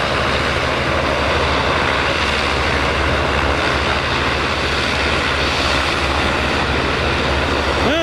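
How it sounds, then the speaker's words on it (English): Loganair ATR turboprop landing at Aberdeen Dyce Airport: a loud, steady, broadband roar of engines and rushing air throughout, close and continuous, with no talking. "we've got Loganair ATR, which is just on final, and that'll be landing in just a second"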